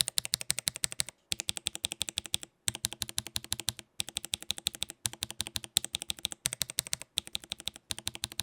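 Typing on hand-lubed lavender purple mechanical keyboard switches: rapid close bursts of crisp clacks in steady runs, each burst broken by short silent pauses, fairly quiet.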